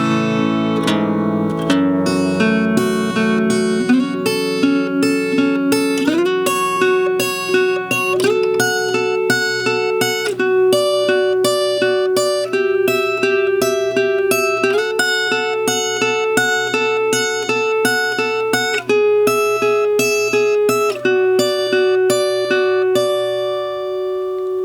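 Acoustic guitar played with a pick, the intro of a song: an opening strum followed by a steady, unhurried run of picked notes and chord changes, bright and close.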